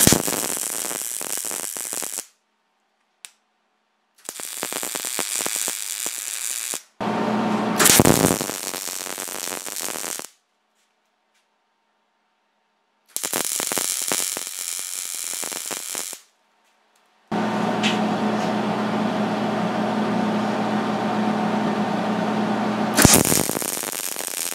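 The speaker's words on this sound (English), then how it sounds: "I'm getting ready to weld this nut" Welding a 7/16 nut onto a homemade steel waste oil collector: several loud, crackling, buzzing arc bursts of a few seconds each, separated by short silences.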